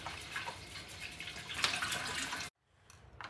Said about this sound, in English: Now that we've washed our apples in running cold water